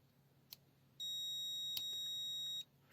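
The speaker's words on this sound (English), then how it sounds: "Let's check the continuity mode speed." An Aneng M118A multimeter in continuity mode gives one steady high-pitched beep lasting about a second and a half, framed by faint clicks of the probes touching.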